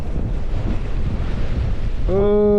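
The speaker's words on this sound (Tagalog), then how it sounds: "Sobrang lakas ng hangin." Gusting wind from a fierce Canadian winter storm buffets the microphone in a continuous rushing roar, broken near the end by a short sustained tonal sound.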